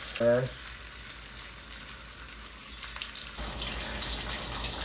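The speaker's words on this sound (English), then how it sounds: "Look at that bacon just sizzling up in the pan." Thick-cut applewood smoked bacon sizzles in a frying pan. A short clink opens the clip before a quieter stretch, then a brighter, louder crackling sizzle swells and holds.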